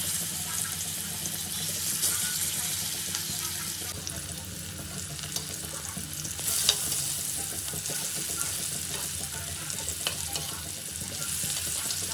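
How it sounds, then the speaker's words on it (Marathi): Continuous loud sizzling of pumpkin slices shallow frying on a hot griddle, a dense crackling hiss throughout with a few sharper pops, no voices. "शालो फ्राय करून घेऊया"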